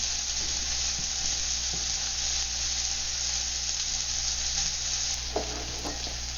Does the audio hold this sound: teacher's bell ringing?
no